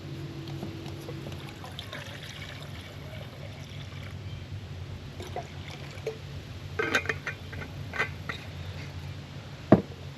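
Water poured into a Jetboil stove pot at an outdoor van campsite, a soft liquid trickle under steady low background rumble, with a few sharper clinks and splashes near the end.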